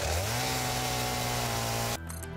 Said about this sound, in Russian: Давай-ка мы вон то деревце спилим. Бензопила, поехали.